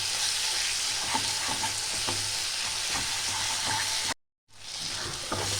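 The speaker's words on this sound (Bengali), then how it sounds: "এবার সব মিলে 3 থেকে 5 মিনিট আমি ভালো করে কষিয়ে নেব" Spice paste with salt stir-frying in a wok for a Bengali fish jhal, giving a steady close sizzle with a spatula scraping through it, and a brief cut to silence near the end.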